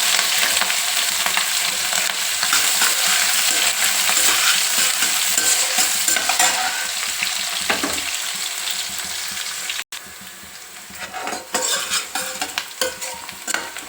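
Chopped onion and green chillies fry with broken dried red chillies in oil for a radish stir-fry, a loud dense sizzle that holds throughout, stirred with occasional scraping, then drops slightly quieter near the end.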